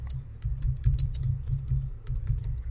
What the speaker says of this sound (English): So you can hear the typing.